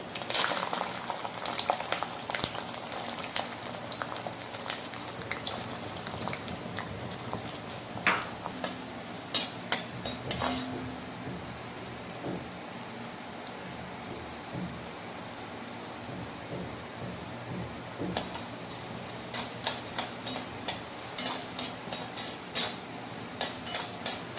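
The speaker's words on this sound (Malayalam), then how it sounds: "എണ്ണ ചൂടായിട്ടുണ്ട്. നമുക്ക് ആദ്യമേ തേങ്ങാക്കൊത്തിടാം അതിനകത്ത്." Coconut pieces fry in hot oil for a Kerala-style mutton roast, a steady close sizzle and crackle with occasional sharp pops and spatters.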